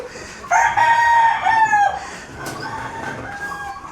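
A native rooster crows once on a chicken farm, loud and close, a long rising-and-falling call lasting over a second, followed by quieter clucking in the background.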